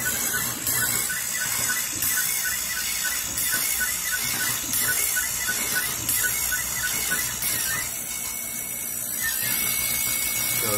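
A Hyrel3D CO2 laser cutter working through 8-inch acrylic plastic, heard as a steady, continuous mechanical whir with faint ticking and gantry motion, close and unbroken for the whole stretch with no talking.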